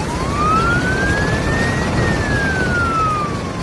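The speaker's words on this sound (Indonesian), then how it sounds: "Truk pemadam kebakaran itu datang seperti pahlawan dengan sirine yang menderu keras." A fire truck siren wails, its tone rising then falling in one long sweep, heard over steady loud traffic rumble.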